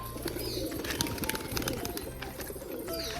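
Pigeons coo steadily in a low, throaty murmur, several birds close by bathing in water, with faint chirps and a brief flutter of wings.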